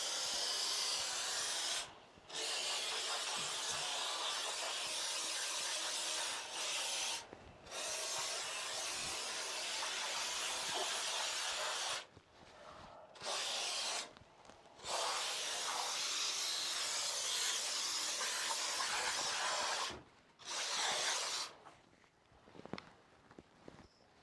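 Close hissing bursts of spray foam from a DIY kit, several long steady blasts separated by short pauses, with faint rustling and movement in between.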